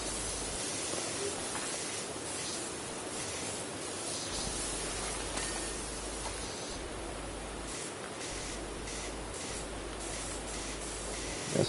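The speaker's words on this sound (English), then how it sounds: "If you spray the chemicals..." Steady broadband hiss of a pressure washer spraying chemical cleaner in PowerWash Simulator, continuous and fairly loud with slight fluctuations throughout, no voices.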